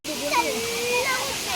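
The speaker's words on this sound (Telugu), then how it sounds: "బాగుందా వాటర్ ఫాల్ బాగుందా?" Talakona waterfall on a family trip, a continuous broad rush of falling water close by, with children's voices and chatter carrying over the steady roar.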